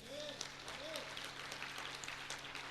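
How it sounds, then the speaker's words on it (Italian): Soft applause rises from a church congregation, a faint, even patter of clapping beneath a low hum, with a sustained tone sounding briefly above it. "Al Signore un applauso."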